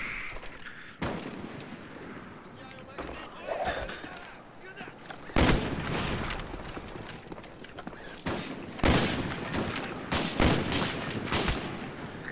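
Repeated loud gunshots and booming bursts in Call of Duty Black Ops, spaced irregularly through the stretch over a busy game background, with some voice activity mixed in.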